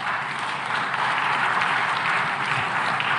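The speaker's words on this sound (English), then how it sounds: "Now you can clap." Sustained audience applause fills a conference hall at an African food systems forum, a dense, steady wash of clapping that holds at even loudness throughout without a break.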